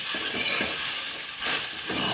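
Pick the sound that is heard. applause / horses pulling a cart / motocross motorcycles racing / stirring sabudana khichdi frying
stirring sabudana khichdi frying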